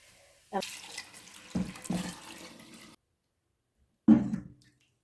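Liquid poured into a cooking pot for a soy curd dish, heard as a close splashing gush for about two seconds and then a second short pour after a silent gap.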